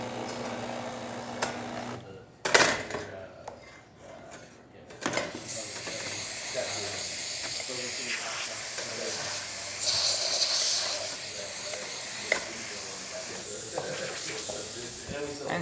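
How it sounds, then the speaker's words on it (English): Steady broadband hiss of a Breville espresso machine steam wand runs for most of the clip, preceded by a few sharp clicks and clunks, with faint voices underneath. "And steam pressure working amazing."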